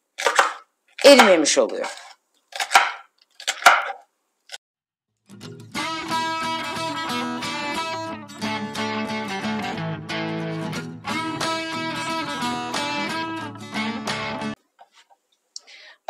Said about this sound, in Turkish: Mantarlarımı da çok küçültmeden jülyen doğrayacağım.